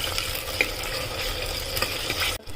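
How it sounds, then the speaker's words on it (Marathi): Tomatoes sauté in a pan for an eggplant and potato curry, giving a continuous close sizzle with a few soft stirring knocks and a brief dip near the end. "त्यात टोमॅटो टाकूया। परतून घेऊया थोडा वेळ।"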